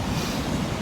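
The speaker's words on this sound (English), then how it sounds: "You can see today it's very windy." Strong wind gusts over an Indian Ocean beach near Colombo and Panadura, Sri Lanka, with steady broadband roar and rumbling surf, loud and continuous with buffeting mic noise and no voices.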